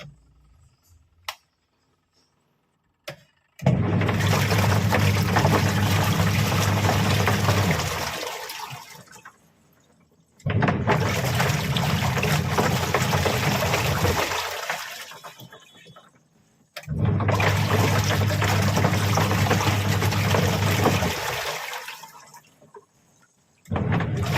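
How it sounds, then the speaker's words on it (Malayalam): A washing machine filled with water runs in three long bursts of churning, gushing water noise, each separated by a few seconds of near silence, loud and close with no talk. "നമ്മൾ വാഷിംഗ് മെഷീൻ വെള്ളം ഒഴിച്ചിട്ടുണ്ട്. ഇനി നമ്മളിത് ഓണാക്കുവാണ്."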